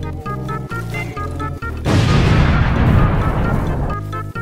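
A pincer barrage attack in the Roblox fighting game The Strongest Battlegrounds: a run of rhythmic thumping pulses gives way to a loud, roaring burst of rumbling impacts lasting about two seconds before the pulsing resumes.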